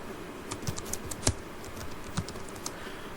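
Keys tapped on a computer keyboard while text is entered into a document footer, a sparse, uneven run of soft clicks with a few sharper strokes, close by over faint room hiss.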